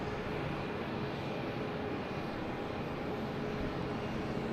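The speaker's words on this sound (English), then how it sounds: "Next takeoff is a Delta heading to Chicago." A Delta airliner roars steadily down the runway on takeoff at Boston's Logan airport, a loud, continuous broadband jet rumble that holds level throughout with no voices.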